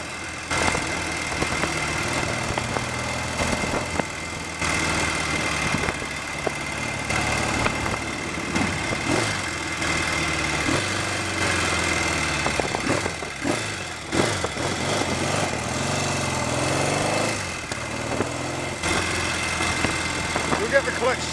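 A Royal Enfield Interceptor 750 Series 2 motorcycle with a slipping clutch idles steadily at close range, its engine rumbling and vibrating continuously beneath someone talking over it.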